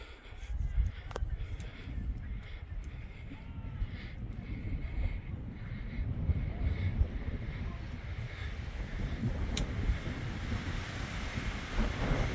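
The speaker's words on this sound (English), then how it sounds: "It's a bit windy out here" Steady wind roaring and buffeting outdoors by a lake, a constant low rumble with gusts, loud and close, with no voices.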